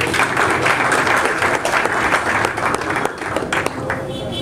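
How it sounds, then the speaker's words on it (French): Audience applause at a French poetry reading event, a dense steady patter of many hands clapping close by, with some voices mixed in underneath. "une fois de plus, les applaudissements"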